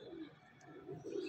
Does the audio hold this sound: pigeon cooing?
yes